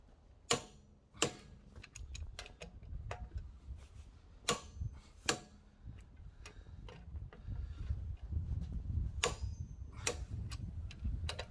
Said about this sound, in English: I step to the side, tighten that one, and again move to the opposing bolt.